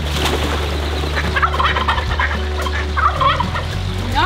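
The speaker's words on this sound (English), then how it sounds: "Naughty ducks." Farm fowl on a goat farm gobble and squawk in a steady, loud chorus that carries on throughout, with nobody talking.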